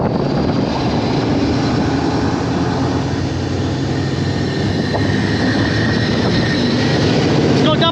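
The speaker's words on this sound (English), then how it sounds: "air compressor run by N14 Cummins engine, so she's got some power" A 1,600 CFM air compressor driven by an N14 Cummins diesel engine, a loud steady drone and roar running continuously without pause.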